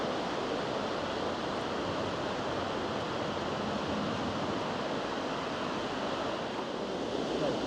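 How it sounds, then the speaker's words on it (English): Ocean surf on a beach near Playa de Catedrales in Galicia, northern Spain, a constant broad wash of breaking waves mixed with wind rush, steady and enveloping with no voices. "So this is the beach just before the Playa de Catedrales, the beach of the cathedrals."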